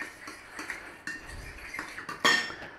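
A spoon scrapes and clinks against a pan while chicken stock made from a stock cube is stirred in for black pepper chicken, giving irregular close taps and a louder clatter near the end, with no talking.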